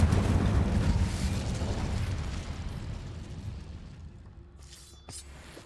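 A fire spell bursts into a loud, roaring whoosh in Hogwarts Legacy, dense and broadband at first, then slowly fading over several seconds, with a small crackling flare near the end.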